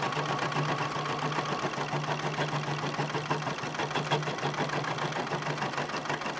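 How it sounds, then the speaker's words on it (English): A Bernina embroidery machine stitches out a quilting design, a continuous rapid mechanical chatter with a steady hum, close and even throughout. "we're going to let it sew this out and finish the quilting design"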